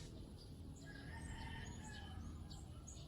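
Birds calling outdoors in the Philippines, scattered chirps and a rooster-like crow carried over a steady, noisy background hum, fairly faint and distant.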